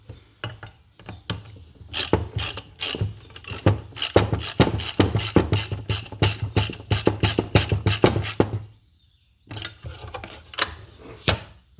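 Nuts being tightened with a hand ratchet on a 3/8 nut while fitting a dash mount tray in a Ford F150: fast, loud runs of close ratcheting clicks that stop briefly, then a shorter burst of clicks.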